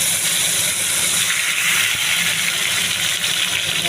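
Tilapia fish and spices hitting very hot oil, a dense continuous bright sizzle and hiss, loud and steady throughout with no voices.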